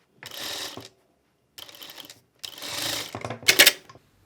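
Sewing machine stitching a hoodie seam with a reverse lock stitch, three close bursts of rapid mechanical whirring separated by short pauses, ending in a louder clattering run.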